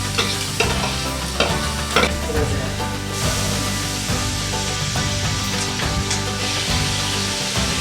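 Garlic sautés in a hot pan for Filipino munggo beans, a close, steady sizzle broken by scraping stirs and occasional clattering knocks of a utensil against the pan.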